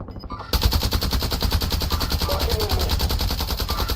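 Rapid automatic gunfire in Call of Duty Warzone bursts in after a brief quiet start, then continues as a loud, relentless stream of closely spaced shots to the end.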